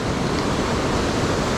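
Rising tide water washes against the shore at a fishing spot, a steady loud broadband rush of surf with no pauses.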